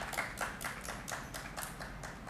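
Applause welcomes speakers onto the stage at a literary lecture event: a short, fairly faint run of hand claps with uneven rhythm, heard alone without talk.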